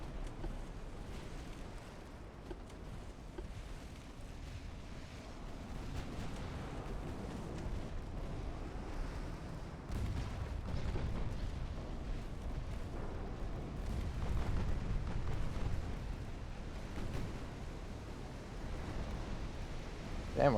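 Torpedo hits explode against warships in the naval battle game Ultimate Admiral: Dreadnoughts, heavy low rumbling blasts rolling and swelling over steady sea and engine noise, with louder surges near the middle and end.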